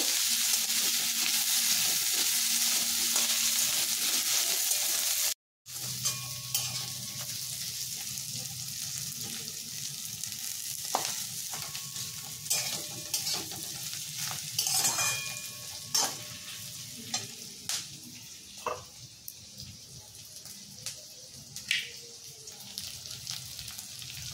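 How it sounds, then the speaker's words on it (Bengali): Chicken for chilli chicken sizzles and fries in a pan while a spatula stirs and scrapes through it, with a brief cut of silence early on, then steady frying under occasional sharp clinks and scrapes. "সব কিছু ভালো করে একটু মিক্স করে নেব।"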